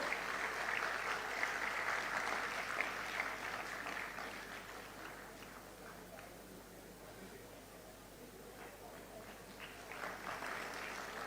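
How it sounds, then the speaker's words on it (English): Faint crowd applause at a formal presentation ceremony in Mumbai, with steady, dense clapping that runs for several seconds, dips slightly in the middle, then swells again. "I think his team is cheering up for the entire service that they have given."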